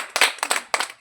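Children clap in a few quick, uneven bursts, close and bright, with no talking over them.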